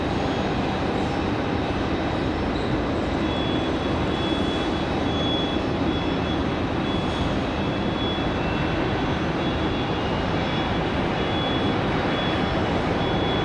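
An Airbus A321 jet taking off from Raleigh Durham International, a loud, continuous broadband engine roar with a thin high whine holding steady throughout, no voices.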